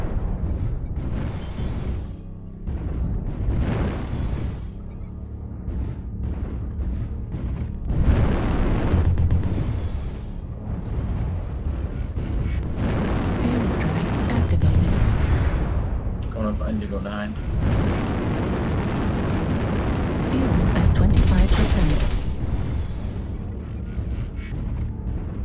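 Missile explosions in the mech combat game MechWarrior Online with an Urbanmech-R63, repeated heavy booming blasts and rumbling impacts in loud surges over a churning battle bed, with a synthetic voice speaking at times.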